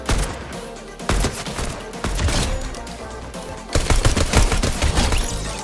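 Gunfire from a weapon with recoil in the video game Fortnite: loud, close bursts of rapid shots come in clusters separated by short pauses, building to a denser volley near the end.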